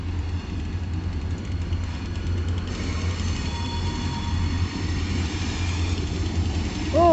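A Kiamichi Railroad train switching onto a spur rumbles steadily with a low engine drone and rolling cars, the sound continuous and fairly close throughout, with a squeal of wheels near the end.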